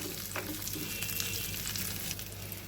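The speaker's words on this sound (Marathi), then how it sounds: "आता हे छान परतून घेऊया." Raw peanuts and green chillies frying in oil make a dense, constant sizzle with a low steady hum underneath and only faint stirring, and no one speaks.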